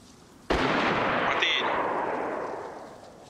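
A single loud gunshot in the video game DayZ cracks suddenly, followed by a long rumbling echo that slowly fades away over a few seconds.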